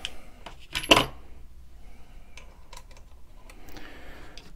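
Metal hex keys from a set clink and rattle as they are handled, one sharp loud jangle early on followed by scattered quieter ticks and taps in a quiet room.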